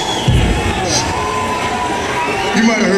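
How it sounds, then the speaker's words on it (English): A concert crowd at a show in a hall in Moline, Illinois cheers and shouts loudly and continuously, with whoops and yells rising over a dense roar of voices. "You don't have to cheer after everything I say."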